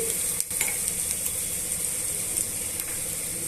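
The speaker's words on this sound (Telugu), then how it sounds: "బెండకాయలన్నీ కూడా జిగురు లేకుండా వేయించేసుకోవాలండి జిగురు అంతా పోయేదాకా వేయించుకోవాలి" Okra pieces frying and being stirred in a pan, a steady dense sizzle with scraping stir strokes throughout, close and fairly loud, no voices.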